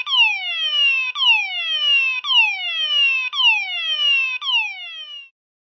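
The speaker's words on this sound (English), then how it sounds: "this is system test 4, my bedroom and bathroom fire alarm system" A bedroom and bathroom fire alarm system, including an ESP red bedroom sounder, sounds during a system test. Five loud, identical falling electronic sweeps repeat at about one-second intervals, close and clear, then stop abruptly.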